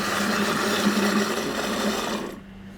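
A blender whirs loudly and steadily for a couple of seconds while making turkey gravy, then cuts off abruptly.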